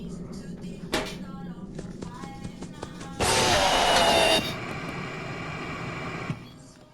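Clanks, knocks and bangs of tools on metal during a repair task in the Five Nights at Freddy's game, with a loud sustained mechanical whir in the middle and a voice speaking faintly beneath.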